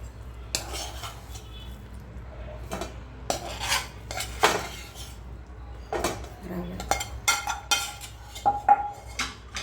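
A metal spoon scrapes and clinks against a mixing bowl as cooled vada ingredients are combined, making irregular close-up knocks and taps in bursts over a quiet room background.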